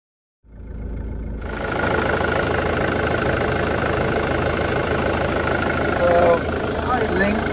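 A diesel engine idles steadily after a brief silent start, a continuous close rumble with a slight rise in level near the end.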